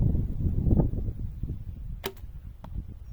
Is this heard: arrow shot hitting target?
yes